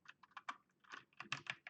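Typing on a slightly faulty computer keyboard during a Windows Server lab: quick irregular bursts of close, crisp key clicks in short clusters with brief pauses, and no voices.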